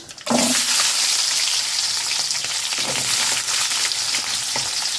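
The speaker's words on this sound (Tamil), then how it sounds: "சின்ன வெங்காயம் ஒரு பத்து வெங்காயம் கட் பண்ணி வச்சுருக்குறேன் அதை போட்டுக்கலாம்" Chopped shallots drop into hot oil in a pan for mango sambar. A loud burst of sizzling erupts at once and then settles into a dense, close, steady frying hiss.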